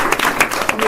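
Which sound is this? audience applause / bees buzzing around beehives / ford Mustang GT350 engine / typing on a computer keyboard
audience applause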